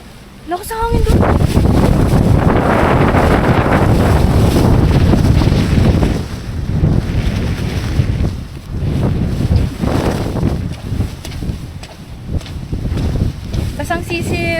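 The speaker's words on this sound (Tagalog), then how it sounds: "Lakas ang hangin doon." Strong wind roars and buffets the microphone in a storm at Ngong Ping village in Hong Kong, a loud, continuous rushing that surges and eases, with people shouting faintly beneath it.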